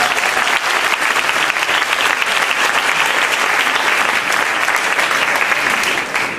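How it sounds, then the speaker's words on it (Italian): Steady, full applause from a gathered audience at a family festival event, welcoming a priest; it is loud and sustained throughout with no break. "Un applauso al Padre Vito."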